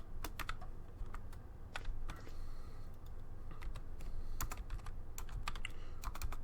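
Quiet, irregular clacking of a computer keyboard as someone types, sharp individual keystrokes coming in short bursts over a low background hum, with no talking.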